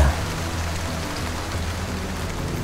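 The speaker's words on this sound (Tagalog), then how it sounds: "Naglakad noon si Alon sa gitna ng malakas na ulan." Steady, dense rain hisses continuously, a heavy downpour with no breaks and no voices.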